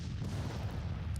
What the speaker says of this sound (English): Enemy artillery's opened up here on the 5th Brigade under Wool